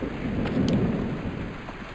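Thunderstorm in a Minecraft-clone survival game: a low rolling rumble of thunder over steady rain, loud and continuous across the moment.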